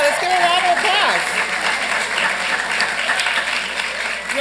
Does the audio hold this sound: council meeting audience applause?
yes